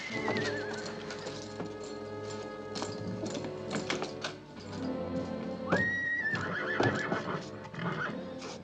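Horses whinny loudly twice amid clopping hooves and tapping, with a busy rhythmic background of movement.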